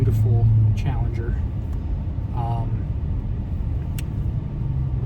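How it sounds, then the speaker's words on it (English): A Dodge Challenger drives along with a steady low engine and road rumble inside the cabin, while someone talks over the drone. "as you can tell by me driving my beautiful, beautiful Challenger"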